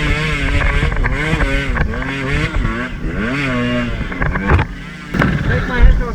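A 125cc enduro dirt bike engine revs and labors on a rocky trail in McLean, its pitch rising and falling steadily throughout over wind buffeting, with a louder burst near the end.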